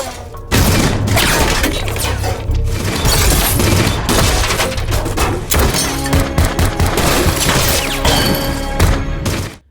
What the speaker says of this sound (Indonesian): terjadi aksi baku tembak yang sangat epik di mana Henry dan John